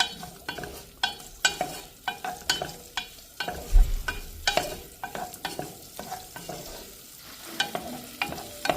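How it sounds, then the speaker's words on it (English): Mustard seeds, cumin, turmeric and asafoetida spluttering in hot oil in a pan, a close run of sharp irregular pops and crackles over a low sizzle, with some stirring scrapes. "Add onions when mustard seeds splutter."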